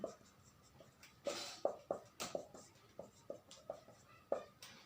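Pen or chalk writing out a maths equation, a series of short scratchy strokes and taps at an irregular rhythm, fairly close and quiet, with a couple of louder brushing scrapes.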